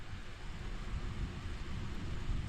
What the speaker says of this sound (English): It's actually started raining and thundering now